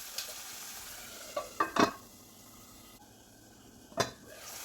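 Shrimp masala for Kerala chemmeen mulakittathu sautéing in a pan while a spoon stirs it, giving a few sharp scraping clacks over a low, steady sizzle, close and with no talking.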